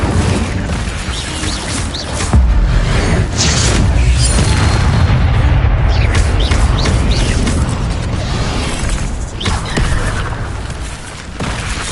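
Spell effects in Hogwarts Legacy, including the Incendio fire spell, sound as a series of loud whooshing bursts and booming impacts with crackling debris, close and forceful, rising and falling across the stretch.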